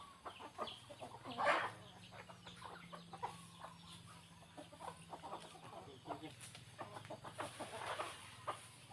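Chickens cluck intermittently in a rural yard, short repeated calls near and far over a low steady hum, with a few louder squawks.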